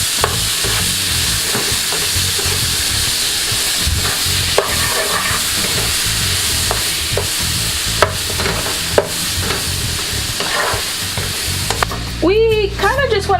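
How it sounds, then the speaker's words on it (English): Vegetables sizzle and sauté in a pot for Jamaican curry chicken, with steady frying crackle and repeated scraping stirs throughout; near the end a sharper, louder scraping of the spoon against the pot takes over. "We kind of just want to sweat the vegetables and let them become a little bit soft before adding the meat."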